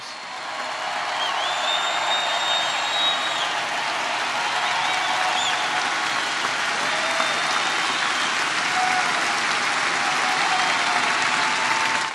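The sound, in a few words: rally crowd applauding coal miners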